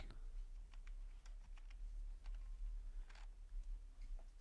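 Quiet keyboard typing: irregular bursts of soft key taps over a low hum, with short pauses between clusters of keystrokes.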